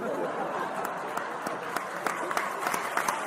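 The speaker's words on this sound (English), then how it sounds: "No need to clap" A small audience gives scattered, light claps that grow a little denser and sharper toward the end, over a low murmur of room noise.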